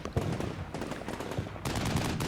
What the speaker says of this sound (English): We get more fire from the hill when our squad leaves.